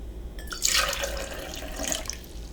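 A short stream of water pours and splashes into a cocktail shaker, with a brief second splash after, close by.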